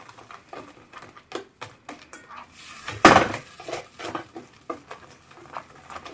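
A metal spoon scrapes and clinks against a pan while stirring a milk peda mixture, irregular close taps and scrapes with one louder clatter midway, no talking.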